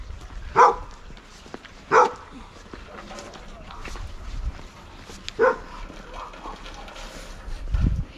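A dog in a Serbian village barks in a few loud, sharp single barks spaced apart, nearby and outdoors, with faint background noise and occasional low thuds between them.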